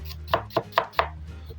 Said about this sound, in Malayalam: വലത്തെ കയ്യിൽ ഉള്ളി പിടിക്കും, ഇടത്തെ കൈ കൊണ്ട് അരിക്കും